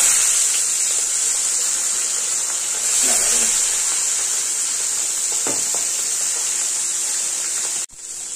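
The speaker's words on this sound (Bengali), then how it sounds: "মাছটাকে উল্টিয়ে নেবো, এক পাশ হয়ে গেছে ভাজা।" Fish fries in hot oil in a wok, giving a steady, even hiss with faint clinks of utensils underneath, cutting off briefly near the end.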